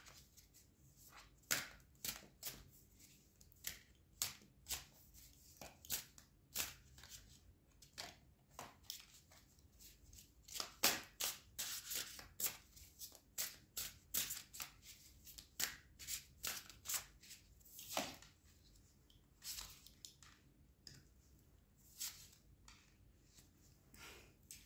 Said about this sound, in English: I'm going to shuffle the cards again.